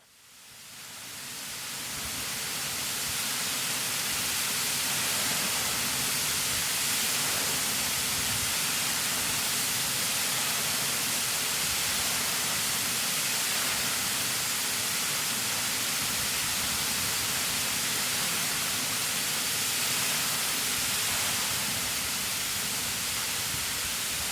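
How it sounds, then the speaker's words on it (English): A mountain waterfall in the Alps at a cirque roars as a steady, dense broadband wash of falling water that fades in quickly and then holds constant and loud throughout, with no voices. "I am finally at the waterfall and it is stunning."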